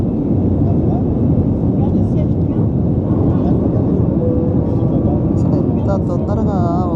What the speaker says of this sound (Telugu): టేక్ ఆఫ్ తీసుకున్నది ఫ్లైట్ ఇప్పుడే